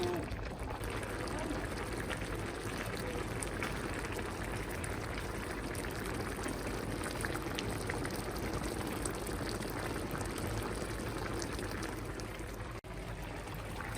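Lemongrass boils in a pot of water, a steady dense bubbling and rolling hiss that holds close and even for the whole stretch, with a voice speaking faintly under it.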